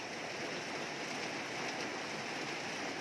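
Heavy rain pours and splashes down steadily outdoors in a dense, unbroken hiss that stays loud throughout, with no voices.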